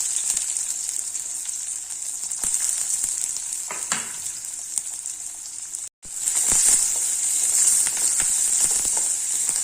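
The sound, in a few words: onions sautéing in a pan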